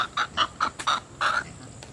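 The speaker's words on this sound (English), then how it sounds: "All my chickens." Chickens cluck close by in quick, choppy bursts, several short calls followed by a longer drawn-out squawk.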